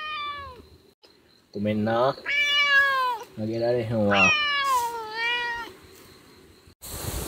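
A cat at a seaside campsite meows close by in several drawn-out, rising and falling calls with short pauses, while a person speaks softly to it between the cries.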